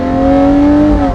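The naturally aspirated V12 of a Lamborghini Murcielago LP640 Roadster, top down, holds a loud, close, rich roar that rises slightly in pitch.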